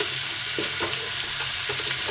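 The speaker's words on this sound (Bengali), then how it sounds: "মাছ ভেজে এদিকে দিয়ে দিচ্ছি পেঁয়াজটা।" Raw onion hits a pan where fish has just been fried, giving a steady, close sizzle of hot oil with soft stirring scrapes running through it, no voices.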